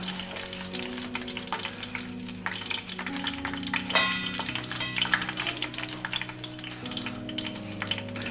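Pork cracklings and added bacon frying in lard, a steady dense sizzle with crackling pops and occasional stirring scrapes, close and continuous throughout with no voices.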